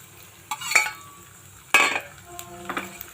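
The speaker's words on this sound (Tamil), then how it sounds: "இப்போது நம்ம அந்த நெய்யில் 3த்தையும் போட்டு வறுத்துக்கலாம்." Cashews, raisins and cardamom frying in ghee, a close sizzle that flares in a few sharp bursts with spoon-on-pan stirring clatter in between.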